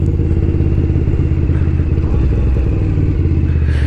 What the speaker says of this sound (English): Second gear just thumping its way to the light.